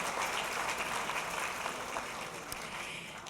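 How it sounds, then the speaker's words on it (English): An audience at an event claps continuously, a dense, even wash of applause heard at moderate distance throughout without pause. "now everyone can clap."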